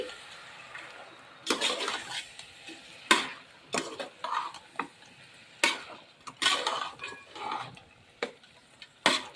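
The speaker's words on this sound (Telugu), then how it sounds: "దీన్ని మొత్తం ఒకసారి తిప్పుకోవాలి" Country chicken (natu kodi) is stirred in a cooking pan with a metal spoon, giving a series of irregular clinks and scrapes against the pan, close and moderately loud, with soft sizzling between the strokes.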